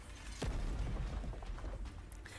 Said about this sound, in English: A thunderous explosion drowns out all other sounds